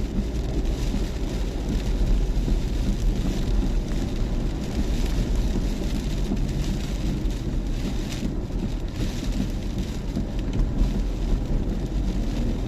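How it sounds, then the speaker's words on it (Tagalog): Heavy rain and gusting wind during Storm Kristine at the Avida Vermosa property, a steady, dense broadband roar with buffeting wind noise on the microphone, continuous and loud throughout with no voices. "malakas ang ulan, malakas ang hangin"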